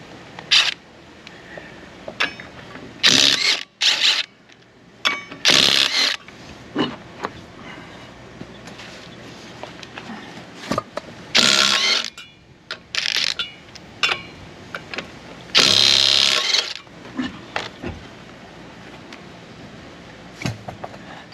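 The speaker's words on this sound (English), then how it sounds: "This time I've got a cordless impact, so I'm hoping that's going to help speed this process up." A cordless impact wrench is used on RV wheels during a suspension replacement, giving sharp, loud bursts of hammering at irregular intervals, some short and some lasting a second or more, with quieter handling noise in the pauses.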